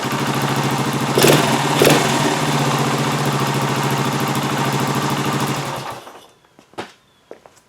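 A restored Honda TL 125 motorcycle with points, condenser and magneto ignition and no battery runs loud and close with a fast clattering idle and two sharp revs, then cuts out, leaving a few faint knocks.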